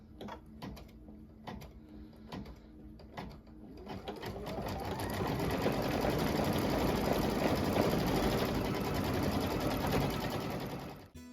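A home sewing machine quilts a repeating patriotic design onto a quilt block. A few short starts and stops come first, then a long, steady mechanical whir that stops abruptly near the end.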